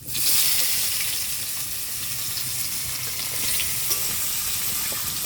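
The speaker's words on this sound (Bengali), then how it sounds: "তেল গরম হয়ে গেছে, ছেড়ে দিই। কুচনো পেঁয়াজ দেবো এবারে।" Chopped onions dropped into hot oil with bay leaf, whole cumin and whole garam masala, giving a loud, steady close-up sizzle that continues without break and without talking.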